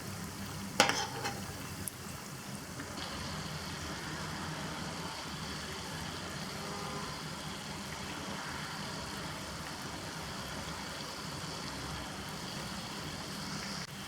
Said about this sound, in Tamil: இது கொஞ்சம் பொறுமையாக சிம்மில் வச்சு வேக வைங்க.